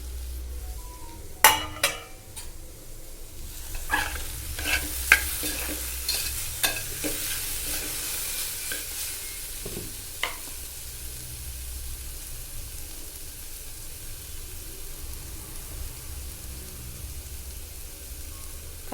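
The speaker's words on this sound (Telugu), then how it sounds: "ముక్కలు ఫ్రై అయినాయో బాగా లేదో చూద్దాము." Beetroot pieces frying in a pan, a soft continuous sizzle with a cluster of sharp spatula stirring scrapes and taps in the first half, then settling into quieter even frying.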